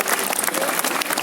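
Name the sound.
audience applause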